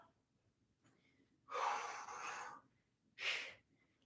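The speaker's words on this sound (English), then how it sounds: "Hear me panting." Heavy, breathy exhales from an instructor leading a kettlebell strength workout, two loud bursts of panting separated by a short pause, heard up close with no talk over them.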